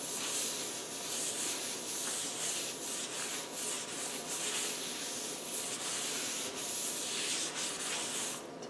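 Excess rust powder is rubbed off the inside of a cookstove oven, making a continuous close scratchy abrasive scrubbing with slight rhythmic pulses and no talking.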